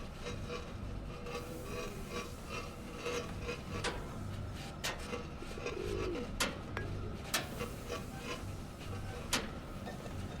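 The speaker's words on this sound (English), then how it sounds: "I don't trust you, pigeon." A pigeon cooing in the video game Egging On, soft low coos over a steady background hum, punctuated by a few sharp clicks and taps.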